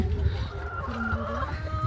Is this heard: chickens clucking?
yes